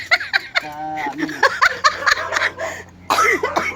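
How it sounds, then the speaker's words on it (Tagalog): A person coughs up close in a few harsh bursts, with laughter and chatter from others mixed in around the coughing. "Ay, sorry na umubo ako."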